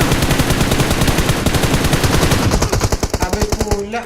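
Rapid automatic gunfire in a PUBG Mobile match, a loud, dense burst of shots for the first half, then slower, distinct cracking rounds toward the end, with no talk over it.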